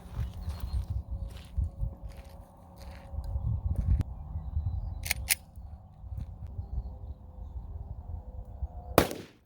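A Glock 33 fires a single 357 Sig Underwood 115gr JHP round, one sharp, loud crack near the end after a stretch of quiet handling noises and light clicks.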